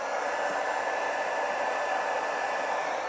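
Heat gun blowing hot air to shrink heat-shrink wrap over 12 volt wiring, a steady, even, close-up rushing hiss that holds constant throughout with no talk.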